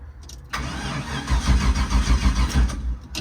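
Turbocharged LS V8 in a rat rod truck cranking over, a brief click followed by a rough, pulsing churn of the starter and engine, loud and close with no voices.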